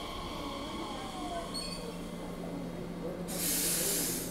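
A train rumbles at a station in Cochem, Germany, with faint squealing tones, then a loud burst of hissing air breaks in near the end.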